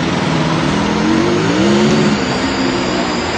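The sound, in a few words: bikers gang convoy of motorbikes revving on Delhi streets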